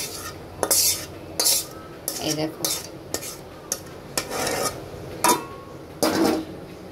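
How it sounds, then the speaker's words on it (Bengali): Vegetables being stirred into fried rice (pulao) in a pan: a spatula scrapes and clatters against the metal in irregular bursts, loud and close, with short pauses between strokes and no talking. "এই সবজিটা এখন আমি ফ্রাইড রাইসে দিয়ে দিব, পোলাওটার ভিতরে দিয়ে দিব।"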